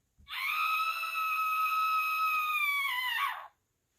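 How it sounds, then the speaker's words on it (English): A woman lets out a single long, loud, high-pitched scream that holds steady for about three seconds before cutting off, with no other sound around it. "The queen screamed."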